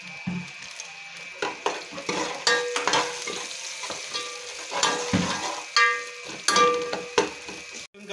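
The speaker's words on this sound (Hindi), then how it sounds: "आयल में हमने दो अदद बड़े प्याज काट के डाल दिए" Chopped onions frying in oil with salt, chili and turmeric, with a steady sizzle broken by repeated scrapes and clinks of a spoon stirring in the pan, no talking.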